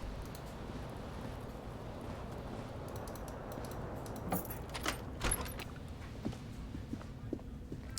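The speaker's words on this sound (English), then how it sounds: "There is a single key on the ring." Metal keys jangling on a key ring in the Disco Elysium video game, a few short bright clinks and rattles in the second half over a steady low ambient hum.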